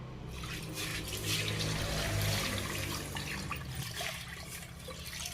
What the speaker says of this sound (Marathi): त्यानंतर आता पोहे धुवून घेऊया